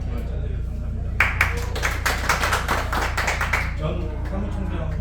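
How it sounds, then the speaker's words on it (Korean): A small group at an alumni association officers' meeting claps for an attendee, a few seconds of brisk indoor applause over a low room hum, with a voice speaking before and after. "박수 주시죠."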